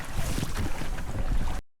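Strong wind roars and buffets steadily over a boat on open water while fishing, with low rumbling gusts, cutting off abruptly at the end.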